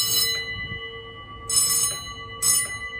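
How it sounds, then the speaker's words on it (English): A museum bell, pulled by hand, rings out in three bright strikes, each followed by a sustained metallic hum that lingers between them, heard close and alone. "I could pull the bell right here if I want"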